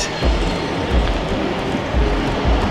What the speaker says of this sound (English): Well, there's a train down there.